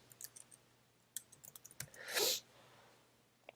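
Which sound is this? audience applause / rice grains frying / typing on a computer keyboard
typing on a computer keyboard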